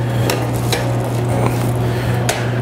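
Chocolate being stirred into hot, just-boiled cream in a pan, giving a few soft scraping and tapping strokes over a steady low hum, fairly close, with no talking.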